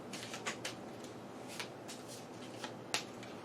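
A combat deck of cards from a fantasy board game is riffled and shuffled at close range, giving a soft continuous papery rustle with a few sharper snaps, quiet and alone.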